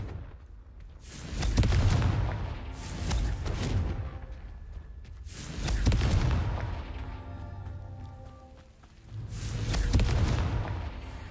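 Confringo fire spells go off in Hogwarts Legacy gameplay, four heavy booming blasts with rumbling tails spaced a few seconds apart, loud and close with no talk.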